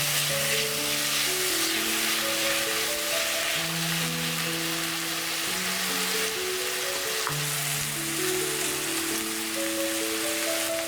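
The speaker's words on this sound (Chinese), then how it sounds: "油热之后，把切碎的洋葱倒进来" Chopped onion hitting hot oil in a pan, a loud, dense, steady sizzle and crackle throughout, with faint tonal hum beneath and no voices.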